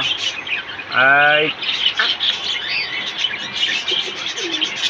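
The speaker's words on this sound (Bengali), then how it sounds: "অনেক সুন্দর, অনেক কিউট কবুতর আছে বিভিন্ন ধরনের।" Birds chirp and a pigeon coos against a busy background hum, with one louder, sharper call rising briefly near the start.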